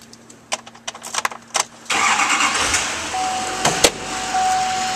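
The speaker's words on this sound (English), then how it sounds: "Now we'll start up this vehicle." A 2011 Chevrolet Silverado 2500 with the 6.6L LML diesel cranks and fires up after some clicks and key jangles, then settles into a loud, steady idle rumble with a thin whine.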